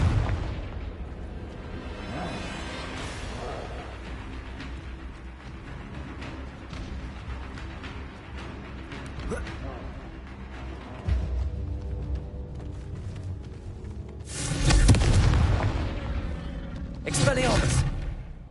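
Confringo fire spell blasts in the PS5 game Hogwarts Legacy, a roaring burst swelling near the end with a second explosive boom shortly after, over a steady bed of game ambience and effects.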